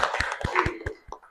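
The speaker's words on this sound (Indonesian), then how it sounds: "Monggo tepuk tangan semuanya." Sparse applause from a seminar audience, a handful of separate claps at irregular intervals over a quiet room background, fairly close and soft.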